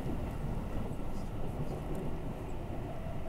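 Aboard a Haruka limited express, a steady loud rush of rail and wheel noise roars while the train overtakes a rapid service on the inner track, dense and unbroken.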